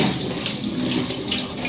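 Tap water runs steadily into a kitchen sink while dishes are washed by hand at home in the evening, a continuous close splashing hiss with no talk.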